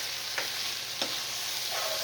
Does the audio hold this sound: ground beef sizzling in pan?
yes